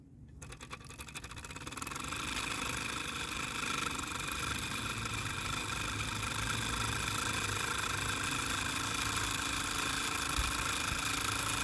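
Mamod SP1 miniature steam engine running, a fast, steady mechanical chuffing and whirring that starts up and holds an even, continuous rhythm, close and fairly loud, with no talking.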